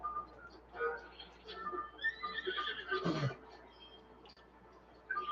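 Horse in the video game The Legend of Zelda: Breath of the Wild letting out a whinny midway, moderately loud over steady game background noise and a low hum, with a person talking faintly.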